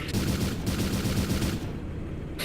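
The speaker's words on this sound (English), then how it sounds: "This one is armed with a 2A42, 300 rounds per minute, 20mm cannon" Sustained automatic cannon fire from a 2A42 20mm cannon in a military video game, a rapid continuous burst of loud shots lasting about a second and a half, then a brief pause before firing resumes.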